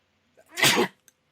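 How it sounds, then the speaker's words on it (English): A single sharp human sneeze, close and sudden, with a short intake of breath just before it and near silence around it. "Apologies for the sneeze there"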